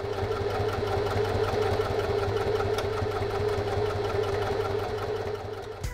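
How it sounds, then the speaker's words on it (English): A sewing machine stitches the long edges of a fabric crossbody bag at close range, its rapid mechanical stitching hum continuous throughout before easing off at the very end. "I'm going to take this over to the sewing machine."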